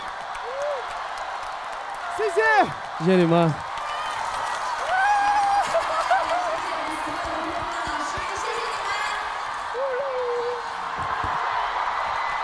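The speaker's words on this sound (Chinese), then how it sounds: "掌声送给所有乐队的老师好吗？" A studio audience at a band competition show applauds the performing bands, a steady crowd wash running under a voice speaking over it throughout.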